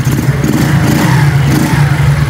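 A 2024 Superlet moped's small engine starts and runs, giving a close, loud, steady putter with slight revving and no talking.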